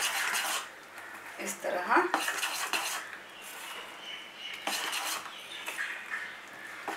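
Spoon stirring rice appe batter in a bowl, a steady close scraping and clinking against the bowl with brief pauses, moderately quiet, and someone says a few words partway through.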